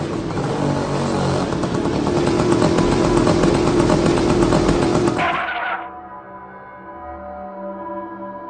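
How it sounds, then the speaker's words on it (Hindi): A cartoon scooter rides in with a loud, steady buzzing motor that runs for several seconds, then cuts off abruptly as it parks, leaving quieter clattering and low background sounds. "और वो अपने स्कूटर को साइड में लगा देता है।"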